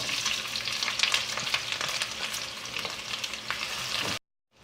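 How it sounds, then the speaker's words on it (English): Onions with curry leaves sizzle steadily in hot oil for a king fish curry, with a loud, dense crackle broken by a few stirring scrapes before it cuts off abruptly near the end. "Fry the onions until they turn light brown in color."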